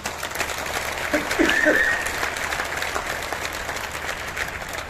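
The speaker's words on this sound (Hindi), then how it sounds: "इसलिए संकल्प लीजिए, अपने दोनों हाथ उठाकर तालियां बजाकर कि आज से ये 2 काम करेंगे।" Large crowd at a public speech clapping with raised hands, a steady moderate wash of applause with a brief vocal sound early on, continuing evenly throughout.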